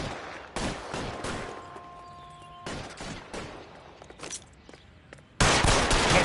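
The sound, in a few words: suppressing gunfire in video game L.A. Noire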